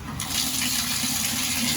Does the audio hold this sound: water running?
yes